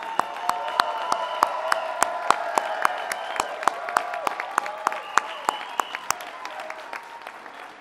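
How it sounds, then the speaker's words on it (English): Audience applause at an event at an LGBT Center, a steady wash of many hands clapping with sharp individual claps standing out, sustained for several seconds at moderate level without speech. "And let's give him a round of applause."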